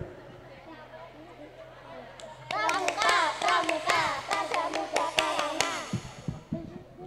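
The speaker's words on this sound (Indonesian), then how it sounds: "mari kita bersama-sama tepuk pramuka" A group performs the Pramuka scout clap at a school graduation event, a burst of rhythmic, patterned hand claps mixed with children's voices, loud and close, ending in scattered claps.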